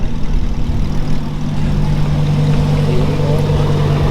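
A Lamborghini Huracan drives through a crowded outdoor supercar show, with a loud, steady low engine rumble and drone close by for the whole stretch.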